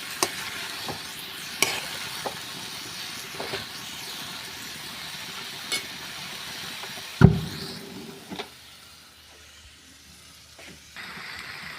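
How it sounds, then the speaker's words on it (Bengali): Spiced potato curry frying in a pan with salt, turmeric and Kashmiri chilli powder as it is stirred, a soft steady sizzle broken by scattered spoon scrapes and one sharp knock near the end. "এবারে এই 3টে দিয়েই আমি ভালো করে মিশিয়ে নিচ্ছি।"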